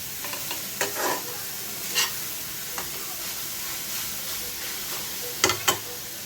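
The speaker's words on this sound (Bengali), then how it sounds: "একটু ভাজা ভাজা হবে।" Beetroot being stir-fried in a pan over low gas, with a steady soft sizzle broken by several sharp scraping stirs of the spatula, close and clear with no talk.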